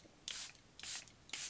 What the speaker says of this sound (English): Now to set everything in place, I'm going to use my Charlotte Tilbury Airbrush Flawless Setting Spray.